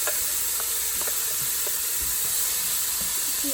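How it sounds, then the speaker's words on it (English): Cauliflower sizzles in a hot pan, a steady bright hiss filling the whole stretch with faint clinks and rustles underneath and no talk. "Listen to that sizzle."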